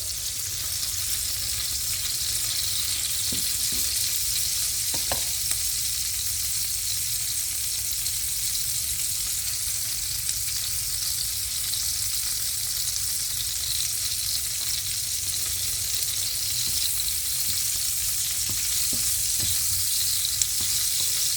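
Shrimp frying in a pan, a continuous even sizzle held at steady volume throughout, with occasional light utensil taps and no speech.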